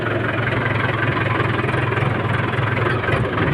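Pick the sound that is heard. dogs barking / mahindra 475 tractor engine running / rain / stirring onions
mahindra 475 tractor engine running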